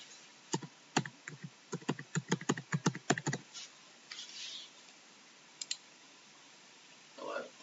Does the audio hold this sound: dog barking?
no